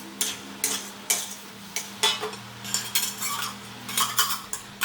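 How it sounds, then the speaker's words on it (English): A utensil scrapes and taps against a pan while scrambling egg in oil, with over a dozen sharp, irregular clinks and scrapes heard up close over a faint steady hum. "Add a little oil to fry egg. Scramble it and mix it all well."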